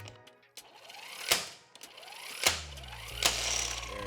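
An electric impact wrench from a VEVOR 5-ton electric jack kit loosens a car wheel lug nut in several short, sharp hammering bursts, separated by quieter mechanical whirring and clicks. The sound is close.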